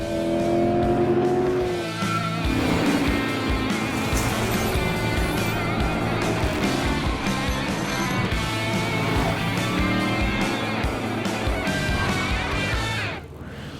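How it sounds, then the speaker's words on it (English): A 450-horsepower Chevrolet Corvette C5 Z06 with bolt-on upgrades is driven on a race track at NCM Motorsports Park. The engine drones loudly and steadily with shifting pitch as it accelerates and holds speed, then cuts off near the end. "We're here at NCM Motorsports Park, and we have our C5 Z06 Corvette ready to turn some laps"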